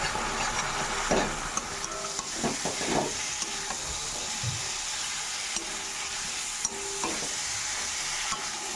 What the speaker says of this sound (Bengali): আর এখানে মশলা কষা হচ্ছে মাছের ঝোলের জন্য